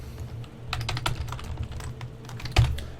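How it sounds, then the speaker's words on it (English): Keys clatter on a computer keyboard in quick, uneven bursts, close and fairly quiet, with one louder thump near the end and no talking. "Oh, man, this keyboard is really something."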